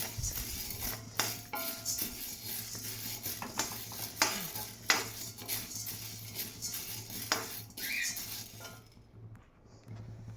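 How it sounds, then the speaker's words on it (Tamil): Chana dal dry-roasting in a pan for idli podi, stirred steadily with scraping clinks of a utensil against the metal and a low hum underneath, the rattle easing off near the end. "ஒரு கிளாஸ் கடலைப்பருப்பு எடுத்தாச்சு அதை வறுக்கணும்"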